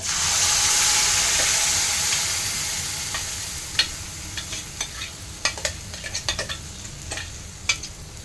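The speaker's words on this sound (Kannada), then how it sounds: "ಅಲ್ಲೇ ಒಗ್ಗರಣೆ ಮಾಡಿದ್ವಿ" Spices temper in hot oil for a coastal Tulu-style elephant foot yam dish, starting with a loud steady sizzle that fades, then stirring with scattered crackles and pops up close.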